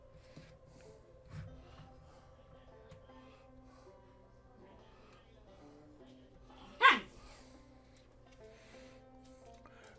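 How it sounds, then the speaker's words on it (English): A single dog barks indoors, faint and distant in the background, one sharp bark partway through, with a softer yelp or whimper earlier and low room noise throughout. "my dog is having an attitude today, so you're going to hear him barking occasionally in the background"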